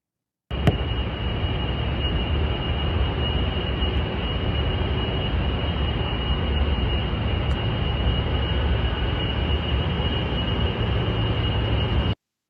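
A data center gives off a constant loud roar like an airplane, a dense steady wash with a fixed high tone running through it, unbroken for about twelve seconds with no talk.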